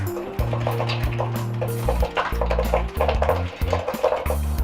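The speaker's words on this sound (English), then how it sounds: "now we're going to take the wooden spoon that my mom used to beat me with and we're going to stir up our mixture" A wooden spoon stirs banana bread batter in a mixing bowl, making a steady run of soft scraping and clinking strokes against the bowl over ongoing background music.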